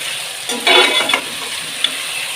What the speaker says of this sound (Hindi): और अब टमाटर के साथ इसको हम थोड़ा सा फ्राई करेंगे।